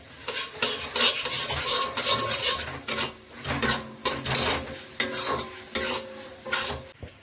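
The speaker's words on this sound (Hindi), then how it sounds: "और अच्छे से कर दूंगी मिक्स, बाकी करूंगी ऊपर से।" Carrot halwa with dry fruits stirred and mixed in a pan, a spoon scraping and clinking against the metal in a steady back-and-forth rhythm with a soft sizzle underneath, close and continuous, no speech.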